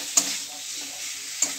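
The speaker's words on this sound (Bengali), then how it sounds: "এবার বেগুনগুলোকে জাস্ট একটু হালকা নেড়ে" Eggplant pieces being gently stirred in hot oil, a steady sizzle with two sharp utensil scrapes at the start and end, close and clear with no talking.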